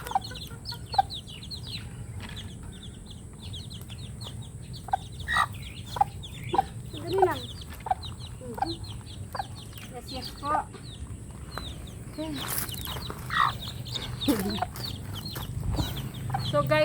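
A hen clucks and calls repeatedly after being separated from her chicks, with other farm fowl sounds mixed in, in irregular bursts over steady outdoor background noise.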